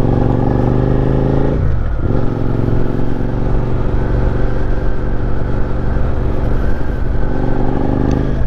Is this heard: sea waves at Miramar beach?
no